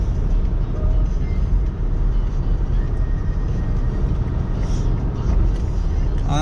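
Steady low road traffic rumble on Penang's second bridge, with a heavy truck among the vehicles, a continuous loud drone of tyres and engines heard from close by.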